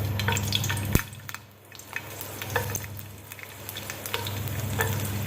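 Garlic sizzling steadily in hot oil for pizza sauce, with soft pops and crackles and a clink of a utensil near the start.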